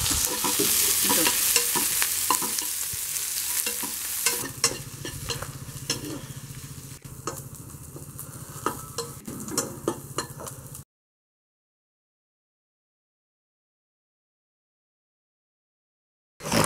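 Onions fry in a pan with ginger, cinnamon and cloves, sizzling steadily up close while a utensil stirs and scrapes, then the sound cuts to silence.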